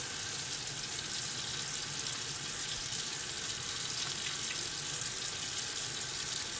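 Tap water running steadily into a sink during handwashing, a soft constant hiss with no break and no talking.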